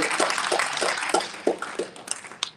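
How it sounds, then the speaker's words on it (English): Sparse, uneven clapping from a small audience at a reading, with distinct individual claps about every third of a second that thin out toward the end. "Give him a round of"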